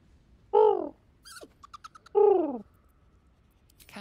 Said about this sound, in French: Camp life seems to suit the young owlbear.